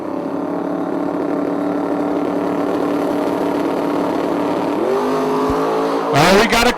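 Drag race cars at a Prize Fight event spool up in the lanes with a loud, sustained engine drone, then rise sharply into a roaring launch at the end.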